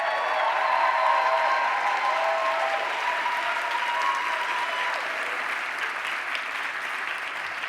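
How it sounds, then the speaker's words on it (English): A conference crowd at a PechaKucha opening session applauds its speakers, a sustained, even wash of many hands clapping at close range with faint voices mixed in. "give all of our speakers a big round of applause"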